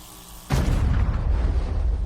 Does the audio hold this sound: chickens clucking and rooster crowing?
no